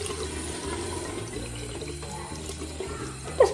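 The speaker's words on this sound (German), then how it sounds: "So, und jetzt kommt da kaltes Wasser rein." Cold water runs into a container in a steady, soft rush that goes on evenly throughout, ending with a small splash.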